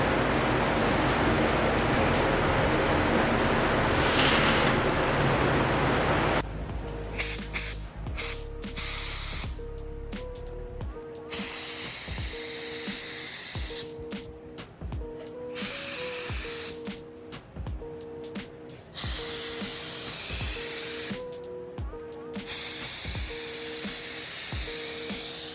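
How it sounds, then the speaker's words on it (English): A spray gun shoots clear coat onto a car headlight during a restoration, giving loud, steady hissing bursts of several seconds each, separated by brief pauses, after a stretch of continuous fan-like noise. "Let's get ready to shoot some clear."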